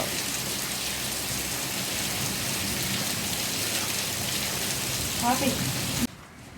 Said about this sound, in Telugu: సరే వర్షం పడుతుంది కదా